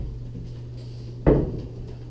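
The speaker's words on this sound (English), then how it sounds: "let me just close these doors" A wooden cabinet door under a 125-gallon reef aquarium being shut, a single soft thump heard close over the steady hum of the tank equipment.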